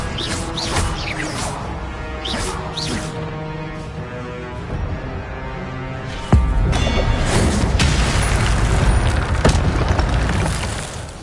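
A fire spell cast in Hogwarts Legacy on PlayStation 5 roars out as a loud burst of whooshing flame, with a sharp crash midway and then a sustained, rumbling blaze.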